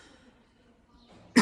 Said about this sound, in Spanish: disculpan un poquito la condición de salud con esta tos